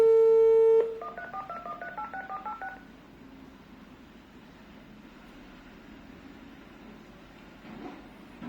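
An Android VoIP office IP phone gives a steady dial tone, then a rapid run of short DTMF keypad beeps as a number is dialed, followed by a quieter hum-filled line while the call connects.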